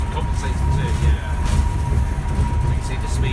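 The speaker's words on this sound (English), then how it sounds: "That's the train brake going in" Heritage railway train braking at Didcot Railway Centre, with train and locomotive brakes applied together: a steady, loud low rumble of rolling stock and brake friction with a faint steady whine, continuous under nearby conversation.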